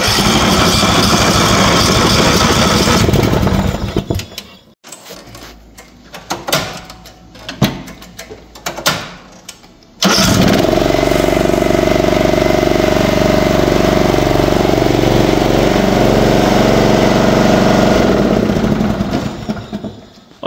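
Husqvarna Rider 11 ride-on mower with a newly replaced fuel pump, its engine roaring loudly and steadily, cutting off into clanks and sputters, then restarting to a strong sustained run.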